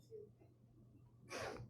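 A single short sneeze, faint and a little distant, bursts out near the end after a quiet stretch with low steady hum in the background of a math lesson.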